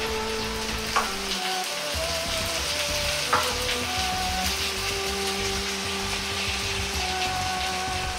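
Steady sizzling of scallion pancake batter frying in a wok, a continuous crackling hiss with faint clicks of a utensil, close and fairly loud throughout.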